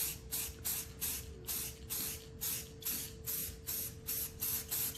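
A spray paint can lays light coats on an R2-D2 dome in about a dozen short, even hissing bursts. The bursts come in a regular rhythm, close and fairly quiet, with a faint steady tone underneath.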